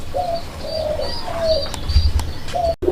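Several soft, low pigeon coos repeat in short phrases close by, with a faint chirp or two in the background.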